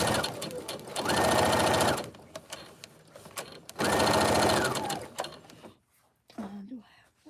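A sewing machine running two loud, rapid, steady bursts of stitching while craft items are batch sewn, with quieter handling noises and soft talk in the pauses between runs.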